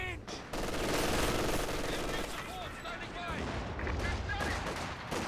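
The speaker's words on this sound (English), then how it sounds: "Heavy machine gun." Heavy machine gun fire rattles through a Company of Heroes 2 battle, loud dense bursts mixed with other gunfire and explosions, with a commentator talking over the action.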